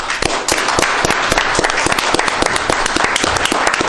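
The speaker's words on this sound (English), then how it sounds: "Maybe a round of applause for them." A round of applause breaks out at a city council meeting, many hands clapping in dense, sharp bursts that fill the room loudly for a few seconds.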